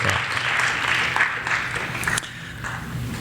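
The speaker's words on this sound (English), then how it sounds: "let's give them an early clap" A community college audience gives an early round of clapping for presenters at a Pecha Kucha night, a steady wash of hands that eases off slightly toward the end.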